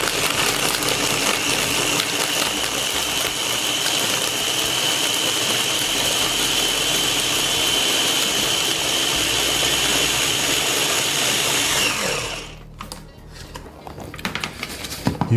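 A blender runs loud and steady for about twelve seconds, whirring through a creamy chocolate cocktail, then cuts off, leaving a few faint clinks.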